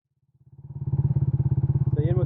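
A 125cc turbo scooter engine runs close by and builds from quiet to a loud, pulsing, rapid beat that holds steady, with a brief whine near the end.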